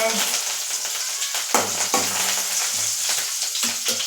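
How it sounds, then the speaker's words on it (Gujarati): Hot oil tempering for dal tadka hisses in a loud, continuous sizzle, with sharp crackles and spatters popping through it as dal is added. "હવે આપણે આ વઘાર છે આ વઘારમાં આપણે આ થોડી થોડી કરીને દાળ એડ કરી દેવાની છે"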